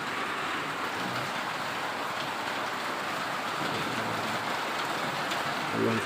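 Steady rain pours down, a dense even hiss of drops on surfaces with no voices, holding constant throughout.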